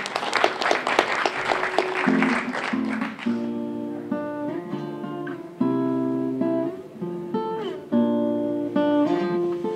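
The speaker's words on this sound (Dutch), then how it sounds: "Applaus!" An audience applauds for about three seconds, a burst of clapping that gives way to a sung and instrumental song as the music starts.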